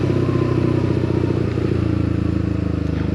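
A Yamaha XSR 125 motorcycle engine and exhaust give a steady, loud, throaty drone with a fine rapid pulse, heard up close and alone for about three seconds.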